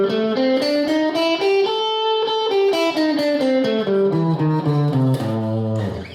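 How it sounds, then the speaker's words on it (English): Electric guitar plays an A blues scale, single notes stepping steadily up and then back down in an even run, with a clear, slightly effected tone and no talking. "I'm going to add the flat 5 and make it what we call the blues scale."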